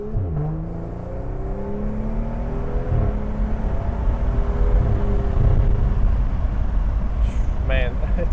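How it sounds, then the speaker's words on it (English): A BMW 535i with a full exhaust and turbos rumbles and revs up close, the deep exhaust note rising gradually with a whir of turbo, while someone talks over it and a brief whistle-like spool appears near the end. "This thing does sound really, really good, and like you can really hear those turbos as well"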